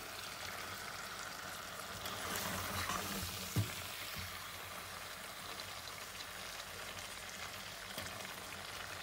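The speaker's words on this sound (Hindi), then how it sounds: "और इसे मज़ीद 5-7 मिनट के लिए भूनेंगे ताकि मसाला जो है वो अच्छे से आलूओं में मिक्स हो जाए" Potato bhujia gently frying with masala in a pan over lowered heat, a soft, quiet continuous sizzle with a faint stir and one small knock, no voices.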